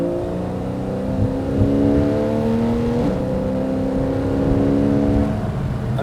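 A Porsche 911 Carrera S (991.1) engine without sports exhaust hums and revs steadily, its tone climbing and easing as the throttle changes, loud and close, with no one speaking.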